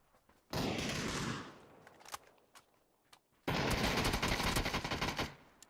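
Two long bursts of rapid automatic gunfire in a video game with heavy recoil, loud and close, separated by a short gap with a few isolated shots.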